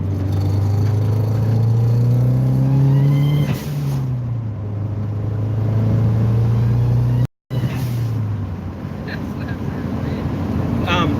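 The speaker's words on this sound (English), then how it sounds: "you can hear the boost leak" Turbo whine from a boost leak on a Subaru WRX at a play day, a thin rising and falling whistle riding over loud engine and wind noise, swelling with the revs and briefly cutting out.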